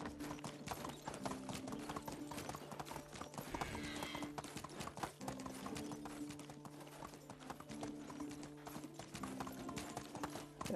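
Horse hooves clip-clopping at a steady riding pace in the video game Medieval Dynasty, a continuous rhythmic patter of hoofbeats over background game music, with a brief horse snort partway through.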